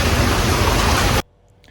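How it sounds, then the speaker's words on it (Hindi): Heavy storm rain in Gurgaon makes a dense, loud hissing roar for about a second before cutting off abruptly into near silence. "रास्ते में इतनी तेज़ बारिश हो गई थी, बहुत ही तेज़ बारिश"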